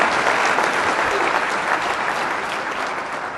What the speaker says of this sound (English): Brad Pittenger, big round of applause.